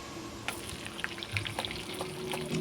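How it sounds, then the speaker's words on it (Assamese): Boiled potatoes go into a pan of onions frying in oil for an Assamese fish curry, with scattered soft thuds and clatters over a quiet, steady sizzle. "এতিয়া ইয়াতে দিম বইল কৰি লোৱা আলু।"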